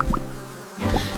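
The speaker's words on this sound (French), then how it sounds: "les abeilles bourdonnent" A brief burst of bee-like buzzing, loud and close, set against a children's song background.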